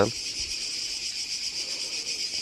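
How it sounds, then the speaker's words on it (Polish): A cicada sings from a post outdoors in Greece, a steady high, dense buzz running continuously and fairly loud with no break, with faint low sounds beneath. "ta cykada tutaj na tym supie, to ona tutaj mieszka chyba na stałe"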